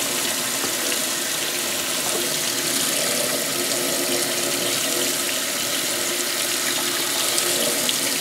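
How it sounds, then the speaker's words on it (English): Tap water runs steadily over a glass piece, rinsing off etching cream, a continuous close splashing rush with no talk. "you're just going to rinse it. And all that etching cream should come off."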